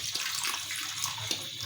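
Tap water runs steadily over 600 grams of boneless chicken being washed in a kitchen sink, a close, continuous splashing hiss with small bumps of handling and no talk.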